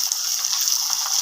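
Tempering seeds sizzling in hot oil, a bright continuous hiss with faint crackles, close and steady for a brief moment.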